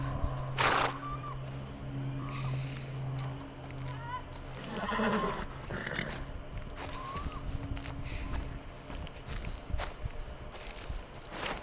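A horse whinnies nearby in the video game The Last of Us Part II amid hoof clip-clops and footsteps, with people talking intermittently over the scene.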